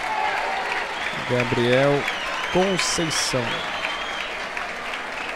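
Football crowd at an Avaí versus Figueirense match applauding a substituted player, a steady wash of clapping from a distant stand beneath a commentator speaking Portuguese.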